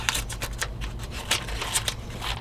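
Harbor Freight multi-tool scissors cut through a sheet of paper in a run of quick, crisp snips, close and fairly quiet, with a faint low hum underneath.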